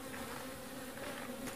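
Close, steady hum of nurse honey bees buzzing over a brood frame, a dense continuous drone with no pauses.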